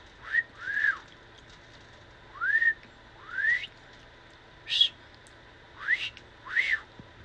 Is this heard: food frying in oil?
no